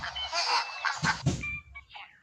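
Loud quacking from ducks being chased and caught tumbles over itself in quick succession, close by, with rustling and scuffling in between.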